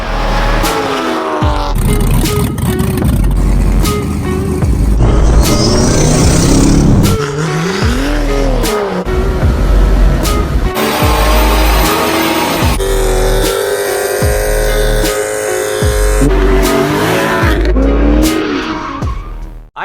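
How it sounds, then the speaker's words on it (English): A BMW M2 is driven hard, its engine revving loudly through rising and falling pitch sweeps, with tire squeal and skidding mixed in. The sound stays dense and continuous at close range, with no voices. "I drive a BMW M2, and I see if I'd trade my M235 in for it."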